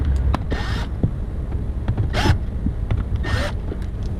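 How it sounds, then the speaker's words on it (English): A Milwaukee cordless screwdriver fitted with a Phillips bit backs screws out of the rear hatch trim on a third-generation Toyota 4Runner, giving three short, close whirring bursts with pauses between them. "I'm just going to use my little Milwaukee gun with a Phillips head to zip them out."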